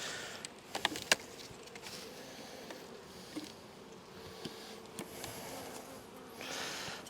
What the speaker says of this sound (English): you might see a lot of bees flying back and forwards and bumping into me, or hear them